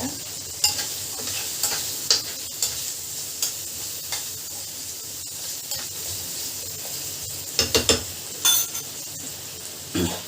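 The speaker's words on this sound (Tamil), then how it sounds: "ஃப்ரை பண்ணிகிட்டே இருங்க." Spinach and potato sizzle steadily in a pan while a utensil scrapes and clinks against it in irregular stirring strokes, close and continuous.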